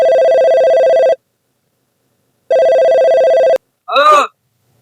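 A telephone ringback tone after dialing a number, loud and clear: two long ringing bursts separated by a pause, followed by a brief voice sound.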